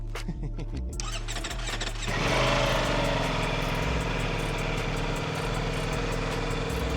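A new Ducati Panigale V4 Tricolore Italia sport motorcycle engine catches and settles into a steady, buzzing idle, close and even, with a lighter ticking before it fires.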